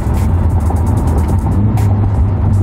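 Ford Focus ST engine during a downshift, a loud, steady low-pitched drone heard from inside the cabin with road rumble and no clear rev blip.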